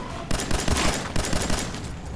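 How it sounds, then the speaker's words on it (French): Rapid bursts of gunfire erupt in the video game Fallout 4, a dense, loud, continuous fusillade of overlapping shots from more than one direction. "Ah mais parce qu'il me tire des deux côtés en fait."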